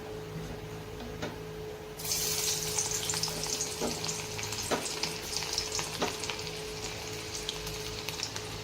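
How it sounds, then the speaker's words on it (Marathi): Chopped garlic drops into hot oil and bursts into a loud, steady sizzle, with a few sharp spoon taps against the pan and a faint hum underneath, close and without talking. "लसूण कट करून घेतलेला ते लसूण त्या तेलामध्ये टाकून घ्यायचं आहे"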